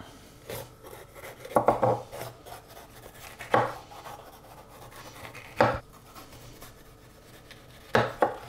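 A knife slices a bell pepper into strips on a cutting board, giving sparse, crisp cuts and thuds at irregular intervals, some in quick pairs, with quiet scraping between them.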